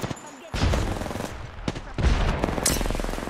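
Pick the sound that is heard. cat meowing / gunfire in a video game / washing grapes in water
gunfire in a video game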